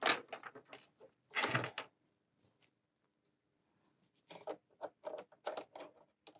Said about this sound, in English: Now I'm going to put the edge stitch foot on.